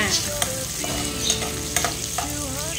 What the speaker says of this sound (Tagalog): imekos-mekos natin siya until mag-brown na yung sibuyas at saka bawang